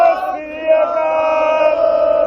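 A crowd of demonstrators in Frankfurt raises a Sikh jaikara battle cry, a sustained, loud chorus of massed voices holding a long shout that swells slightly partway through.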